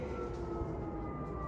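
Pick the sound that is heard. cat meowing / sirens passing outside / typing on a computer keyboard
sirens passing outside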